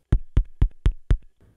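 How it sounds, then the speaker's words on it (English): Five evenly spaced percussive taps on the body of a Fender Jaguar guitar, picked up by a mounted contact mic, each a sharp, close, dull knock followed by a brief low rebound, then a faint trailing rustle. "this contact mic picks up so many like neat percussive sounds on the body of the guitar"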